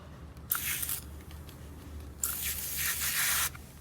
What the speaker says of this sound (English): I will spray it in the brush.